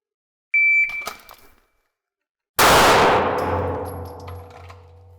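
A BRG 9 Elite 9mm handgun fired at a steel target: a single metallic clang with a short ring, then after a pause a loud second impact whose ringing tail fades slowly, close and isolated.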